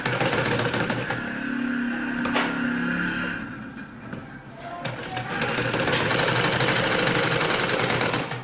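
A sewing machine runs a double line of stitching on a sleeve, in loud steady bursts of rapid needle clatter with a short slower pause in the middle.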